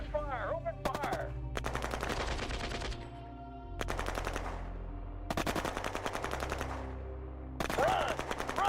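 Rapid bursts of automatic gunfire from a video game, several separate volleys with short gaps in between, loud and close.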